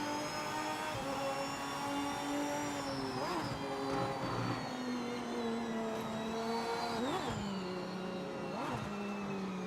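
A race car engine in the Project Motor Racing video game on PS5 sounds fairly quietly, its pitch climbing and then dropping sharply at each gear shift across a continuous run.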